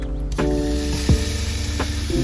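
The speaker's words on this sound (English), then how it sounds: "Let's listen to the sizzle." Chicken sizzling in a hot pan for a weeknight dinner, a steady close hiss of frying that holds for a couple of seconds with faint kitchen clatter.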